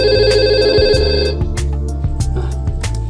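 A simulated VoIP phone in Cisco Packet Tracer rings with a loud, electronic ringtone: repeating tonal bursts in a steady rhythm, close and alone without talk.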